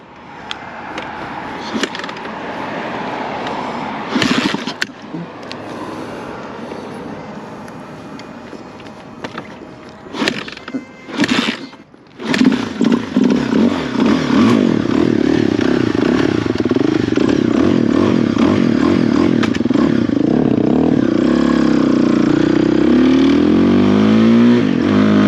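A dirt bike, just fitted with a new fuel line, sputters through a few short cranking bursts, then catches and runs. It revs loud and rough up close, with clattering in the background.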